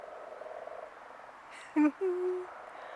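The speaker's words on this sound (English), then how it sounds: "Can you hear the frogs?" A couple of short croaks ring out nearby against a quiet, faintly hissing background, one low and abrupt, the next a longer drawn-out call.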